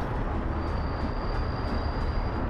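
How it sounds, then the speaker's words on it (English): A train from the Workers & Resources: Soviet Republic city-building game rumbles steadily, a dense, close, continuous rolling roar with a faint thin whine on top and no talk. "Once we clear this block, this train should free up"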